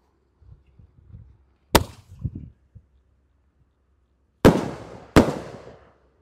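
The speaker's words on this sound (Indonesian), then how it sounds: "terima kasih sudah mengikuti menyalakan banyak sekali mercon petasan" Firecrackers go off outdoors: a sharp bang followed by a couple of smaller crackling pops, then two loud close blasts in quick succession with rumbling decay.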